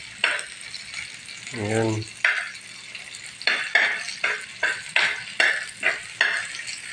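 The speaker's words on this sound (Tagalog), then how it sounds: "Gisahin muna natin siya." Food sautéing in a pan sizzles under a series of sharp, rhythmic metal scrapes and clanks from stirring, with a brief spoken word near the start.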